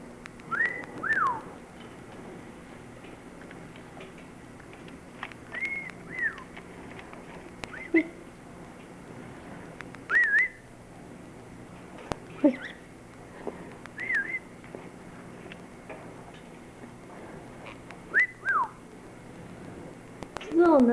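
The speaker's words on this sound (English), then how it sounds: "You gonna whistle? I'll try and do this." A person whistles short rising and falling phrases to a pet bird, repeated every few seconds over a quiet room, with soft chirps and faint background sounds between the whistles.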